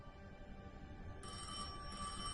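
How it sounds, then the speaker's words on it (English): A telephone rings inside a video game, a bright electronic trill that starts about halfway through and keeps going steadily over a soft, constant game backdrop, with no talking. "Phone ring?"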